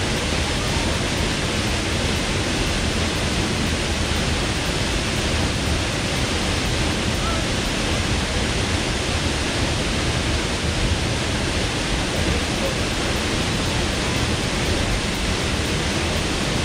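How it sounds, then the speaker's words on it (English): Flat Lick Falls, a waterfall heard up close as a loud, continuous, even roar of rushing, splashing water filling the whole clip without a break. "Today we early saw beautiful waterfalls here."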